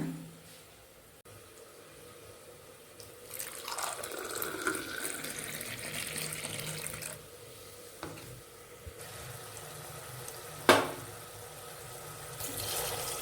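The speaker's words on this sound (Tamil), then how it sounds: "தேங்காய் பால் ஊற்றிட்டேங்க" Coconut milk pours into a pot with a rising gush, followed by a steady bubbling simmer of chicken curry and occasional clinks of a utensil against metal.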